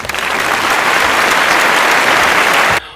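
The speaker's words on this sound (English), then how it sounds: "I would like a round of applause." Dense, steady applause from an audience fills nearly three seconds at full loudness, then cuts off abruptly near the end.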